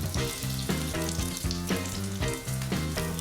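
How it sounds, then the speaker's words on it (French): Gyoza frying in hot oil in a pan, a loud, close, crackling sizzle that runs continuously, with tonal hum-like bands beneath it. "Attention aux projections de friture et on peut allumer la hotte."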